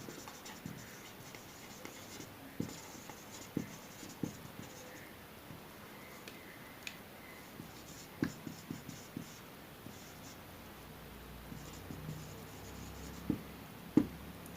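Pen or marker writing on a board, soft scratchy strokes with scattered light taps, faint and close in a quiet room, continuing intermittently throughout.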